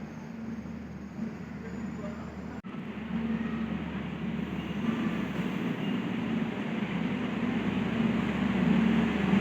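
A Sembrani passenger train pulls out of Surabaya Pasar Turi station, a steady loud low rumble of wheels and carriages building gradually and running unbroken without speech.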